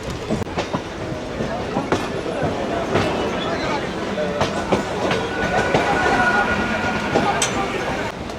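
A crowded commuter train pulls into Sealdah station, its steady rumble and clickety-clack of wheels on rail joints filling the scene at close range, with voices murmuring faintly underneath.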